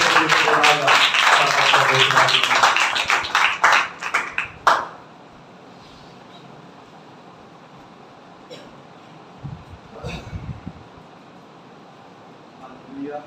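A church congregation clapping together in praise of God, dense loud applause for about five seconds that cuts off abruptly, followed by a quiet room with faint scattered sounds.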